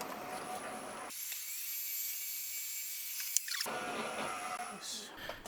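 A high-pitched metallic whine of an end mill in a drill chuck cutting a flat into metal on a motorcycle cylinder head part, steady for a few seconds with a sharp click in the middle.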